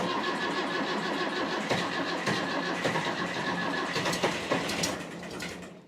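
An old diesel engine with aged glow plugs cranks hard and keeps turning over, a loud, dense rumble with repeated labouring surges but no clean start.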